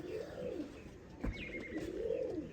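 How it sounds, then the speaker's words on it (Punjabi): Kamagar pigeons coo in low, rolling calls close by, two soft throaty phrases with a brief chirp and a thump between them. "ਕਬੂਤਰ ਵੱਡੀ ਤਾਦਾਦ ਦੇ ਵਿੱਚ ਆਏ ਨੇ"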